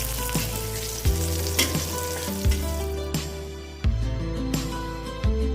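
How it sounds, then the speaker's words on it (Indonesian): Bird's eye chilies and curly chilies sizzle in hot oil for sambal, a steady close crackle broken by a few sharp scraping stirs, with no one talking. "Kemudian kita goreng cabai rawit dan cabai keriting."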